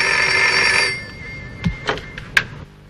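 A telephone rings loudly in a drama scene, one long electronic ring that stops, followed by a few sharp clicks and knocks as it is picked up.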